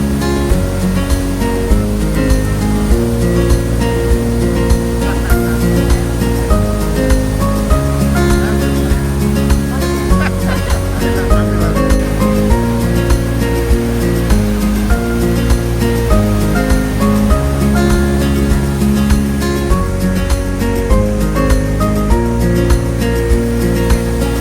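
Tegenungan Waterfall in Bali, running high and forceful after rain, gives a loud, constant roar of falling water that fills the whole scene without a break.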